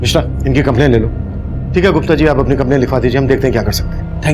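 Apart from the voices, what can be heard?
No everyday noise stands out behind the speech.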